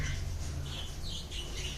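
Pet birds for sale squawk and screech in repeated harsh bursts at close range over a steady low background rumble.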